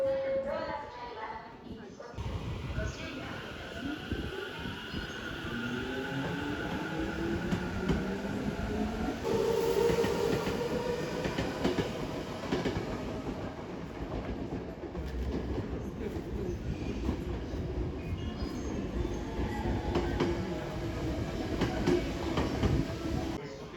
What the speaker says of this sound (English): Our train is coming.